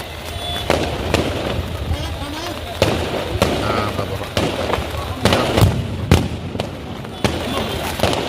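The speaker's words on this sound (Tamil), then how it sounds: "வெடி வெடி வர நல்லா வெடி வரட்டும்" Firecrackers burst at the flag-hoisting opening of the 469th Kandhuri festival at the Nagore Dargah, with sharp cracks and booms at irregular intervals, loud and near over a background of crowd noise and talk.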